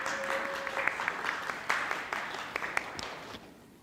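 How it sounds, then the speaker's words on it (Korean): Audience applause for a presenter being introduced at a youth-centre training results seminar, a room of clapping hands that holds steady, then fades out over a few seconds. "과연 어떤 프로그램으로 시작을 열으실지 큰 박수로 부탁드리겠습니다."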